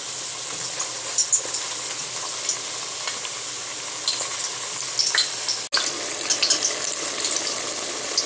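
Eggplant slices sizzle steadily in hot frying oil, a dense crackling hiss with scattered pops, close and continuous with a brief interruption midway.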